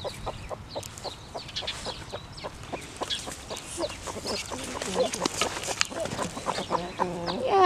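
Hen clucking repeatedly in a farmyard at the edge of spring, a rooster nearby, with steady rhythmic clucks and other bird calls rising toward the end.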